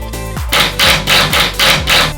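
A pin nailer fires into a wooden shelf on a home bar build. About five sharp, loud pops come in quick, even succession.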